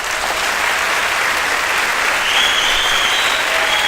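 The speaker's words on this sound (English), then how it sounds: "Please give a round of applause as they stand up." A school spring-concert audience applauds the drum majors in a loud, dense wash of clapping from a large crowd, steady throughout with a faint whistle rising near the end.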